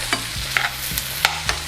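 A utensil scrapes and taps against a frying pan in short, irregular strokes, breaking up chunks of tofu scramble while it sizzles softly underneath.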